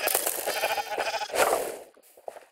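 Sheep bleat in a video game, a loud, wavering, nasal cry that swells and fades over a couple of seconds, followed by a short sharp tap near the end.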